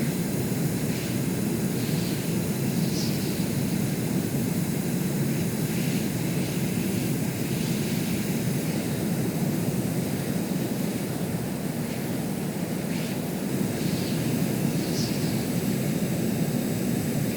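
A multi-engine aircraft drones steadily in Stormworks, a constant loud roar and rushing hiss with no breaks or changes in level.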